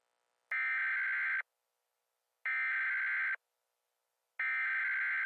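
Three identical EAS alert tone bursts, each about a second long, separated by roughly one-second silences, loud, steady and electronic with no talking.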